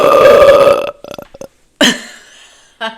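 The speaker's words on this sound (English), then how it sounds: "That's probably burp of the week." A loud, long close-up burp with a raspy, sustained tone, followed by a few small clicks, a second sharp burst and a short trailing sound.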